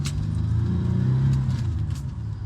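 GM dual overhead cam V6 bored out from 3.1 to 3.4 litres, cruising in fifth gear through a Getrag transmission, a steady low engine drone with road rumble heard from inside the car, no talking.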